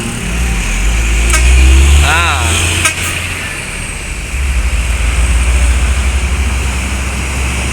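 A bus passes on a road at night with a steady engine roar and tire noise, a horn sounding in short blasts and a rising whine, while people talk over it.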